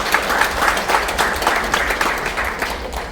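An audience claps at a memoir book launch held at the National Assembly Museum: close, full applause with fluttering peaks that runs throughout, with no speech over it.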